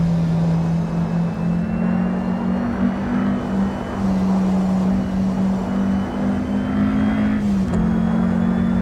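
A Porsche 550A RS Spyder's engine held at high revs in Assetto Corsa on the reworked Isle of Man circuit, a loud, sustained buzzing drone with small pitch shifts and a brief dip near the end as it is over-revved.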